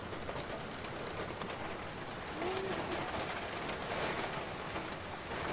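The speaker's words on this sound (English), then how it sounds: "That wind and the rain is getting a bit too much for my liking." Steady storm rain pours alongside gusting wind in a broad, hissing wash, moderately loud and unbroken for several seconds with no voices.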